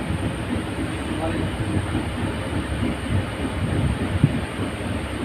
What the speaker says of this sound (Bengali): ট্রেনটা খুব স্লোলি যাচ্ছে